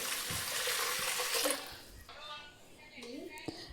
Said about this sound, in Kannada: ಇಡ್ಲಿ ಪಾತ್ರೆ ತೊಗೊಂಡು ಇದಕ್ಕೆ ಎಷ್ಟು ನೀರು ಬೇಕು ನೋಡಿ ಎಷ್ಟು ನೀರು ಹಾಕ್ಕೊಳತ್ತೇನೆ ರೀ